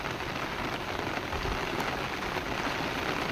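Heavy rain falling steadily, a dense, even hiss of drops on surfaces that stays loud and constant throughout with no voices.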